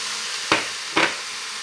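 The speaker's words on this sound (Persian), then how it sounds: "و همش میزنم و این سبزیه که آماده کرده بودیم، سبزیه هم بهش اضافه میکنم" Eggplant filling fries in a pan with prepared herbs while a utensil stirs it: two short, close scraping strokes rise over a constant soft sizzle.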